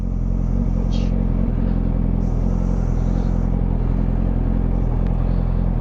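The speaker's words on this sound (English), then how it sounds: "I'll turn my bike around." Motorcycle engine running steadily and loud throughout as the bike is turned around, a continuous low rumble with no talk over it.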